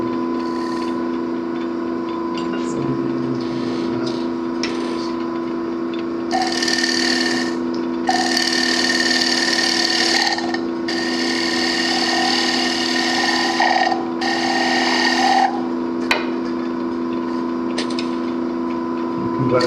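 A wood lathe hums steadily while a tool cuts beads into spinning wood at a woodturners' club meeting, giving several scraping bursts of a few seconds each between quieter stretches.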